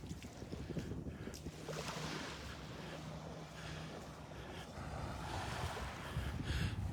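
Gentle surf washing onto the beach at Delnor-Wiggins Pass State Park in North Naples, Florida, at an outgoing tide, a continuous soft rush of waves mixed with wind buffeting the microphone, no voices.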